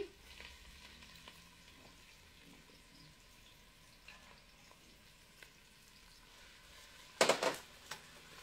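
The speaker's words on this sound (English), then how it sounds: "I have olive oil heated in the pan. I'm going to add onion," A quiet, steady sizzle of onion, celery and carrot frying in heated olive oil, with faint stirring clicks and a short louder burst of crackling near the end.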